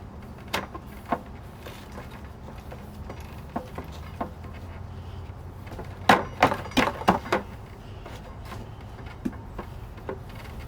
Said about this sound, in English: we then lift up the wheel, sort of, and try to tap the axle through